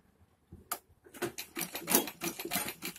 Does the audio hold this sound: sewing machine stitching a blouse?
yes